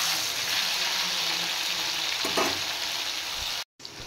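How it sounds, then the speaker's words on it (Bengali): Potatoes and ridge gourd fry together in a pan with a steady, close hiss of sizzling oil, one short stirring clatter midway and a momentary break just before the end. "এবার আলু আর ঝিঙা আর একটু ফ্রাই করে নেব।"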